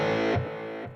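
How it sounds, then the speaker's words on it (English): Electric guitar with distortion, a loud sustained chord ringing through a short stretch, changing pitch partway before the attack fades and returns near the end. "I'm putting the distortion back on"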